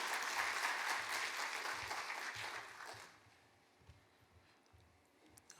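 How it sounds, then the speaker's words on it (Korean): A church congregation applauds to welcome a guest speaker at a Saturday dawn worship service, steady clapping for about three seconds that then fades abruptly, leaving a quiet room with faint stray sounds. "우리 나오실 때 다시 한번 환영합니다라는 의미로 박수로 해주시면 감사하겠습니다."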